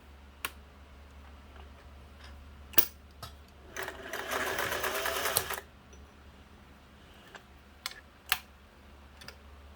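A Singer 401A sewing machine runs in a steady, close whirring burst lasting about a second and a half, framed by sharp mechanical clicks and knocks from handling the machine before and after.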